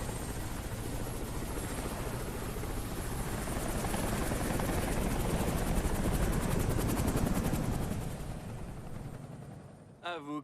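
A helicopter roars continuously at close range, its rotor chopping steadily, then fading toward the end as a short voice cuts in.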